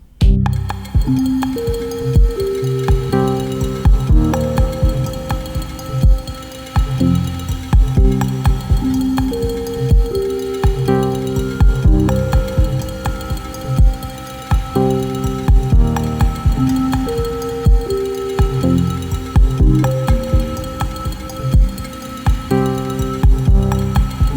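A dense electronic loop of resampled layered synth tones and pulsing beats from an Octatrack sampler repeats steadily for a long stretch, loud with no talking.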